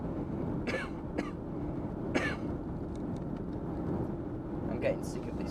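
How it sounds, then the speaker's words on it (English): A person coughs several times in short separate bursts, close to the microphone, over a steady low background rumble. "I'm getting sick of this cough now."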